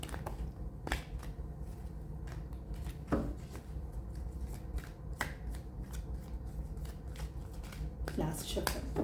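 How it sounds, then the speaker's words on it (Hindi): Tarot cards shuffled by hand, soft quick riffles and flicks in short bursts, fairly quiet under a steady low hum, with a person speaking at times. "last shuffle"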